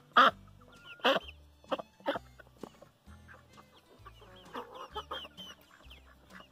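Chickens on a small backyard farm kept alongside Peking ducks cluck and squawk in loud, close, irregular bursts, with quieter fowl chatter between the calls.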